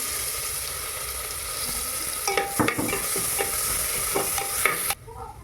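Chopped onion fries in hot oil for pav bhaji, a constant close sizzle broken by scraping spoon strokes in the middle stretch, then the sound cuts off abruptly near the end, with no voices.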